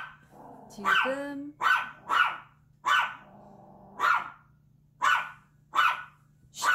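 A dog barks close by, about eight sharp barks in an uneven rhythm, with a low steady hum in the background and a brief word spoken at the start.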